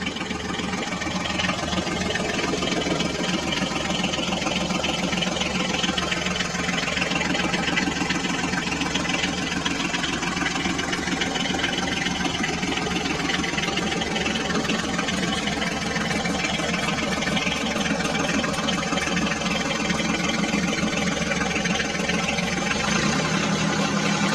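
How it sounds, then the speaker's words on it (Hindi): Steady toy Sonalika tractor engine whirring continuously while the little tractor pulls itself out of mud, a busy mid-pitched motor hum holding at constant loudness with no pauses. "अब हम सोनालिका ट्रैक्टर को इस कीचड़ से बाहर निकाल लेते हैं"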